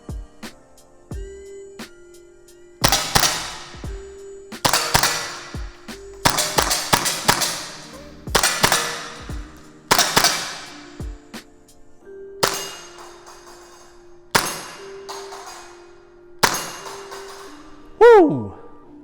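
Pistol shots ring out one at a time at a shooting range, loud, sharp cracks spaced irregularly over several seconds, with a steady background hum between them and a person's voice briefly near the end.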